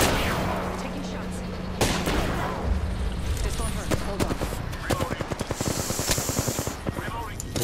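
Apex Legends gunfire comes in bursts and rapid automatic volleys, loud and close, with players talking over the shots.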